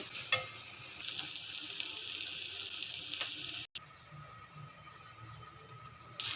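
Spice masala fries and is stirred in a pan for a jackfruit and prawn dish. A bright, steady sizzle runs under close scraping strokes, then drops off abruptly before a quieter stretch resumes.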